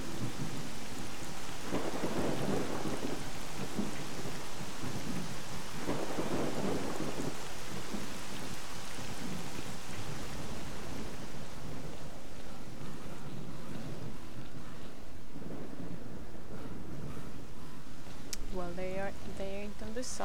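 Heavy rain pours in a video game with rolling rumbles of thunder swelling and fading, a dense constant wash of sound, and someone talking intermittently over it.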